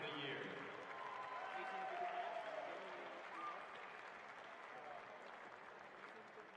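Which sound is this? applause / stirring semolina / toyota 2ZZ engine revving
applause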